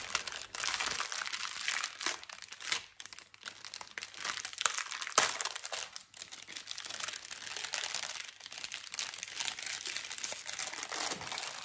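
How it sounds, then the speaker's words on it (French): Paper crinkling and rustling while a diamond painting kit is unpacked, a steady close-up crackle with irregular louder crunches and tears running throughout, with no talking. "désolée pour le bruit du papier"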